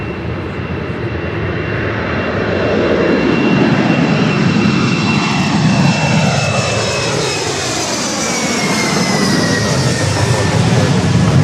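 An airliner takes off at LAX, its engines roaring loudly and steadily close by with a broad rumble and a whining tone that slowly falls in pitch as it passes.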